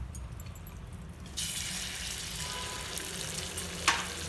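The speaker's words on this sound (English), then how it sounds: "See, it has been frying for 10 minutes now." Food frying in a pan with khova, or mawa, a soft, continuous sizzle that starts low and faint, then grows brighter and fuller partway through, with a few small crackles and stirring scrapes.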